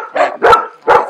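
Three loud, close dog barks in quick succession at an animal shelter, each a short sharp burst with brief gaps between.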